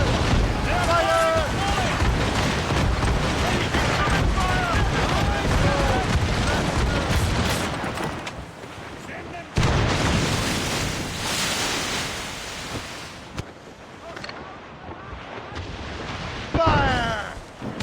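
Ship cannon fire in the naval combat of the video game Assassin's Creed Rogue, booming volleys over ocean waves and creaking sailing ship sounds, with crew members shouting orders throughout.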